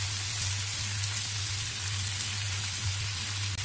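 Taro stolons sizzle steadily in a pan with homemade sauce over medium to medium-high heat, a continuous close crackling hiss with a low hum beneath and no talking.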